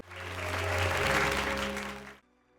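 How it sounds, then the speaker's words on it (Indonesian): Courtroom applause in a film, a dense swelling wash of many hands clapping that builds, holds, then cuts off abruptly, with a low tonal hum beneath and no talk. "Ruangan itu pun bergemuruh dengan tepuk tangan."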